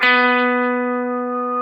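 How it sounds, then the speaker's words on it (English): Guitar feedback through an effect pedal set for slow onset, heard as one steady, loud, sustained tone rich in harmonics that holds without pause and fades only slightly. "it just takes a little while for the feedback to start."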